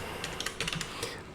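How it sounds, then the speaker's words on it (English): Quick, light taps on a computer keyboard typing a short word, several close clicks in an uneven rhythm over a soft room hiss. "So simply I'm just typing hi"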